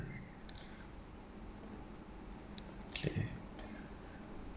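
A handful of sharp, quiet clicks from a computer mouse pressing the Quick Connect button in FileZilla, spaced apart with a small cluster near the end, over a low background hum.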